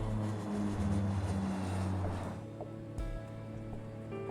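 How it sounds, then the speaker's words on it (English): Air Illinois Flight 710, an airliner departing Capitol Airport in Springfield, Illinois, with a steady loud engine drone and propeller-like hum running throughout, easing slightly in pitch partway through. "Air Illinois Flight 710 departs from Capitol Airport in Springfield,"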